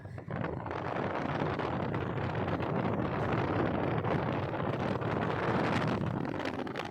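Strong, steady rush of air blowing from a Coaster van's air conditioner fills the whole clip, a broad roaring hiss with no voices, loud and close.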